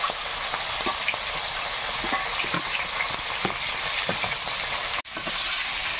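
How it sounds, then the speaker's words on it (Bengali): Large live gagra river fish frying in hot splattering oil, a dense, loud sizzle with scattered spitting crackles that continues steadily, briefly cut off near the end. "এগুলো লাল লাল করে ভাজা হয়ে গেছে। তেল ছিটকাচ্ছে"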